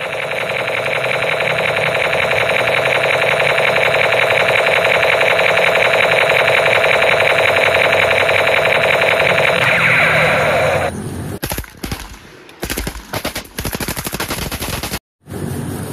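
A toy MP7 gun fires its electronic sound effect as a loud, continuous rapid-fire buzz for about eleven seconds, then cuts into a few short, choppy bursts.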